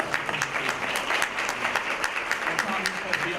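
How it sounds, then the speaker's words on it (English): Audience at a university forum panel applauds steadily for a few seconds, dense clapping from a crowd with a fairly even, sustained texture. "Let's give a round of applause for Tom Wilkinson."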